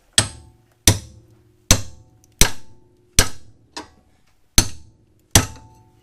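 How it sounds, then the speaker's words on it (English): A pickle fork is hammered against a BMW E46 control arm, giving eight sharp metallic strikes at a steady pace of roughly one every three-quarters of a second, each ringing briefly, close and loud. "Other option is to take a pickle fork, like so, and beat it."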